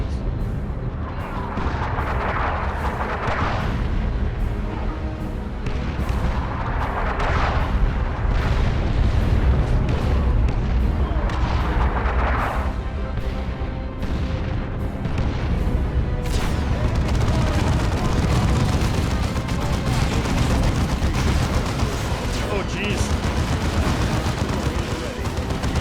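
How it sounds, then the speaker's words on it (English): Artillery barrage explosions from the strategy video game Dawn of War II: Chaos Rising. Repeated booming blasts and rattling gunfire roll on without a break through a dense, loud battle soundscape. "Another barrage! Another barrage!"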